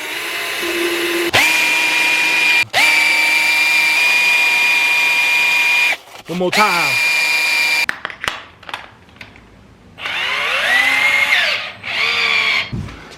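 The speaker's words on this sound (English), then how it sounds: "Grab a drill." A power drill whines loudly at a steady pitch in long runs, stopping and restarting several times, with a brief spoken phrase in between.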